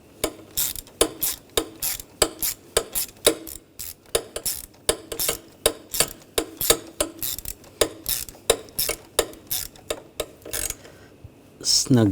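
A ratchet clicks in quick repeated bursts while tightening the ignition coil bracket bolts on a 2007-2013 BMW X5 3.0L inline-six, loud and close, with brief pauses between strokes.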